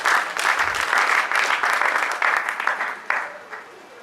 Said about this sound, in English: Please let's give him a round of applause again